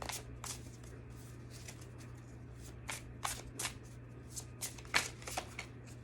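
Tarot cards are shuffled close by in quiet, irregular riffles and snaps over a steady low hum.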